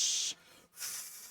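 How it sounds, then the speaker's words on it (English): Bursts of high hissing from a spaceship landing in a Jedi adventure game, a strong burst, a short pause, then a second slightly softer hiss that trails off. "like all the sounds of the ship landing."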